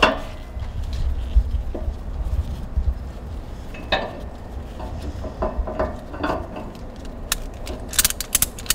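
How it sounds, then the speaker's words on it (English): A ratchet tie-down strap is cranked tight on a hitch-mounted motorcycle carrier outdoors, giving a series of sharp metallic clicks and clacks in uneven bursts over a low background rumble, denser near the end. "And proceed to ratchet it down."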